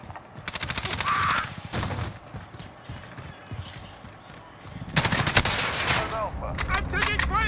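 Gunfire in Call of Duty Modern Warfare, with bursts of rapid automatic fire and scattered single shots and distant crackles at moderate level, over faint game chatter.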